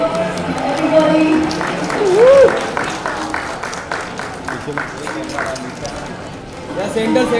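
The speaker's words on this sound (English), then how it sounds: "Big round of applause, everybody." Audience applause rings out at an award ceremony honouring Jacqueline Fernandez, with steady crowd clapping under an amplified voice and background music for the whole stretch.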